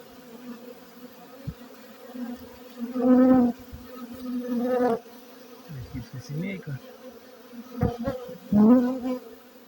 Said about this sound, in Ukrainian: Трутень вышел на облетик сразу, і ось вони літають, вже залітають назад, вертаються.